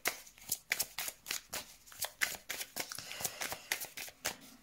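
Tarot cards being shuffled by hand for a reading, a rapid run of crisp riffling flutters and slaps in an irregular rhythm, close and fairly quiet, with no talking.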